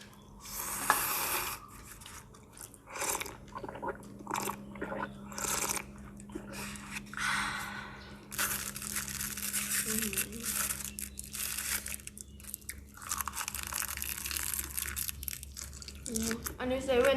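Close, crisp crunching and crinkling from crunchy food being chewed in an eating session, coming in irregular bursts with brief quiet gaps and faint wet sounds, some talk between bites.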